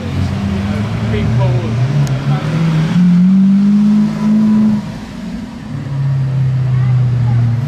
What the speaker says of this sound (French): Avec le Urus qui arrive en face